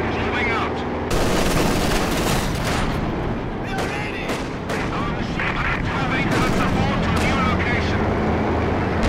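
Heavy battlefield gunfire in Company of Heroes 2, with an MG-42 machine gun rattling amid booming artillery and explosions, a dense, continuous barrage that stays loud throughout, with brief voice lines in the mix.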